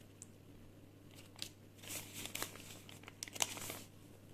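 Paper surprise packet being torn and opened, soft crinkling and rustling in scattered bursts, with a few sharper tearing crackles, close and quiet with no talk.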